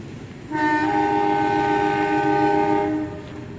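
A loud, sustained train horn blares for about two and a half seconds as the Gayabaru Malam Selatan train departs, a steady multi-tone chord over low rumbling, then cuts off.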